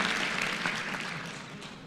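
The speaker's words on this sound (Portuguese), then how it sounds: "Uma salva de palmas para ele." A seminar audience gives applause, a brief steady patter of many hands clapping at moderate volume that fades slightly toward the end.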